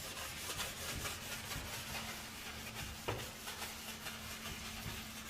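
Primer is rubbed onto a crusty wooden mantle in a steady, close scrubbing rasp of repeated strokes, with a faint low hum in the background and no voices.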